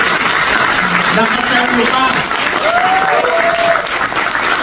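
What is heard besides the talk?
audience applause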